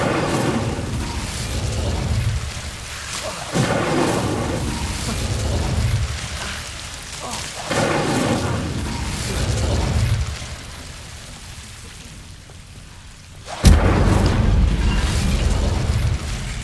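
A fire spell cast in Hogwarts Legacy, a video game, lets out a series of loud, roaring bursts: heavy booms around 0–1, 3.5, 7.5 and 13.7 seconds, each followed by a sustained rumbling whoosh.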